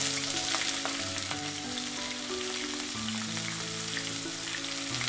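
Finely chopped large onions sizzle and fry steadily in a pan for an idly upma, a continuous crackling hiss with occasional stirring, close and without talk.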